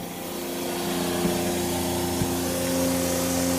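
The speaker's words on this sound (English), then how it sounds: "this is the boost pump right here. It pulls the salt water in, and it pushes it up to the system." Salt-water boost pump of a boat watermaker running close by, a loud steady motor hum with strong tonal bands and a constant broadband hiss, with two brief clicks partway through.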